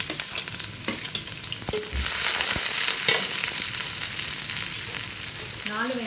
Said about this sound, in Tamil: வெங்காயத்தை நல்லா அந்த எண்ணெயில் வதக்குங்க.